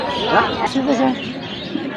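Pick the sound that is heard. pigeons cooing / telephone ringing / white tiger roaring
pigeons cooing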